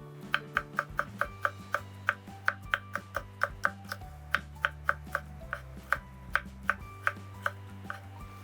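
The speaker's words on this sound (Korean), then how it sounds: "이렇게 해갖고 이제 썰면 됩니다." Kitchen knife chopping food on a cutting board, a steady run of crisp, evenly spaced taps close up over a low background hum, with no talking.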